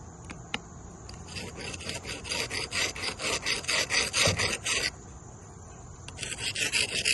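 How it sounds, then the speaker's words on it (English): Rough rub brick scrubbed back and forth over chimney brick to grind off old paint, a steady run of close, loud rasping strokes with a short pause before the scrubbing picks up again. "So I got this rub brick here."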